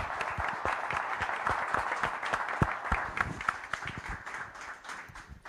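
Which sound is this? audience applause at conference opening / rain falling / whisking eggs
audience applause at conference opening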